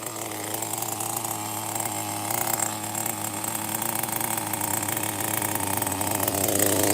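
A Megatech Razor M16 1+HP small model engine, freshly rebuilt with a new piston and sleeve, idling steadily with a high buzzing drone, loud and unbroken throughout.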